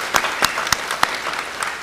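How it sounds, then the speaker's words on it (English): A few scattered claps from the audience greet the senior queen at a raspberry festival senior ambassador coronation, with sparse, distinct hand claps spaced out over a couple of seconds. "Give her a big round of applause here."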